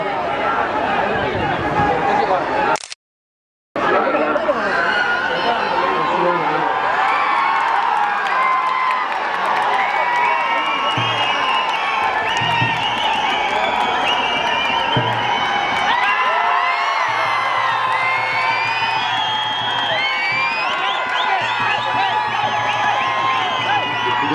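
A large crowd at an outdoor election campaign rally in Puducherry roars and cheers continuously, loud and dense throughout, with whoops and shouts rising over a speaker's amplified voice and a brief cut in the sound near the start.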